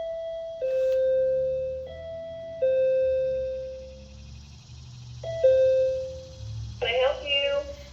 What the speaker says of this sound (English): you are going to ring the doorbell